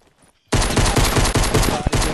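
A loud, sustained burst of rapid automatic gunfire erupts suddenly in Fortnite after a brief quiet moment and rattles on without a break.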